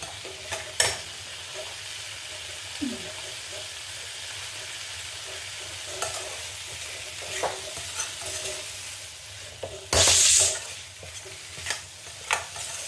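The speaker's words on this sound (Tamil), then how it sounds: "இப்போது இதை நல்லா மிக்ஸ் பண்ணி விட்டுட்டு இந்த ஆனியன், நம்ம போட்ட சால்ட்டு, ஸ்பைஸு, ஆயில் எல்லாம் இந்த பட்டாணியோடு சேர்ந்து மிக்ஸ் ஆகணும்" A spoon stirs blanched green peas with onion, salt, spices and oil in a pan for poriyal, giving soft scraping and occasional clinks over a low frying sizzle, with one loud harsh burst near the end.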